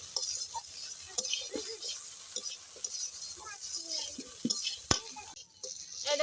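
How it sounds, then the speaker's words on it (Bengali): Crab and okra fry together in a pan, stirred with light metallic scrapes and clinks over a quiet sizzle, close by and fairly soft. "এবার আমি নেড়ে চেড়ে কাঁকড়া ঢেঁড়সের সাথে মিশিয়ে দেবো।"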